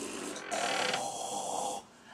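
A voice imitates the loud snoring of a plane passenger with one long raspy, buzzing inhalation, close and alone.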